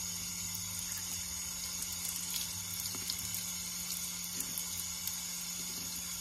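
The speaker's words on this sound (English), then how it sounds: "when we rinse them, we just let it run the water" Tap water runs in a steady, quiet stream into a sink while paper masks are rinsed, a constant faint hiss with occasional small splashes and a low hum underneath.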